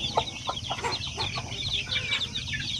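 A small flock of about ten pure Basilan chicken chicks peep continuously in a dense, high-pitched chorus nearby, with a few soft clucks and faint rustling beneath.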